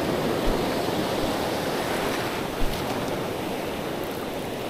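Ocean surf rolls onto a beach in a steady, continuous wash of waves, loud and close, with wind buffeting the microphone.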